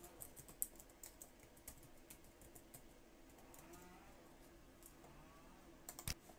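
Login credentials typed on a computer keyboard: faint, irregular key clicks spread across several seconds in a quiet room, with a short flurry of clicks near the end.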